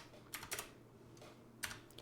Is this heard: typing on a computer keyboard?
yes